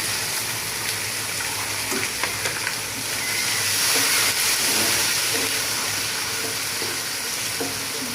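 Onion, ginger and garlic paste fries in a pan with a steady, dense sizzle and hiss, close and continuous, with small pops scattered through.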